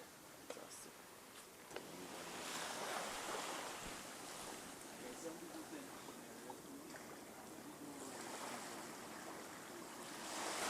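Ocean waves wash up along a sea-moss-strewn coastline, a steady broadband surf rolling on with gentle swells and some faint breathy sounds, under light wind.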